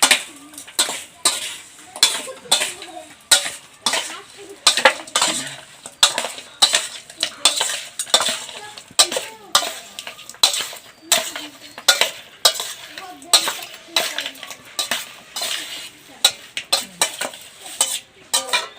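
A utensil stirs desi chicken with salt and turmeric in a pan, making steady rhythmic scrapes and metallic clinks that repeat close up for the whole stretch, with no voices.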